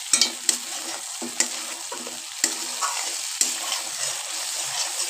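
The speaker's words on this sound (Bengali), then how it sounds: "এবার এটাকে এইভাবে আরও কিছুক্ষণ নাড়িয়ে নাড়িয়ে মিক্স করতে হবে আর মশলাটাকে আরও কিছুক্ষণ কষাতে হবে" Egg korma masala being stirred and fried in a pan gives a steady, moderate sizzle broken by several sharp spatula clacks and scrapes at irregular intervals.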